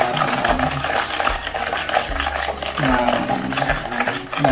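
Chili sauce for homemade samgyupsal is stirred in a bowl, with steady close scraping and clinking of a utensil throughout and continuous background noise.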